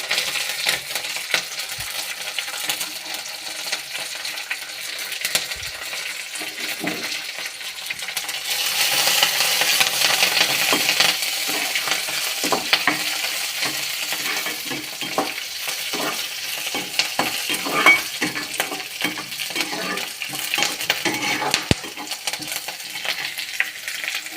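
Curry leaves and green chillies fry in hot oil with mustard seeds in a pan, giving a close, steady sizzle with crackling pops and a few stirring scrapes and no talk.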